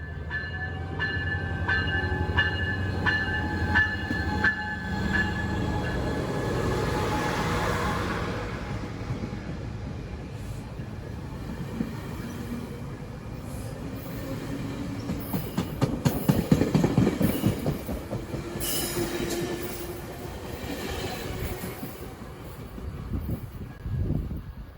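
A passenger train departs Carlsbad Village station, a horn sounding early over rumbling wheels, then clickety-clack rhythms and squealing metal as the cars roll past nearby and pull away.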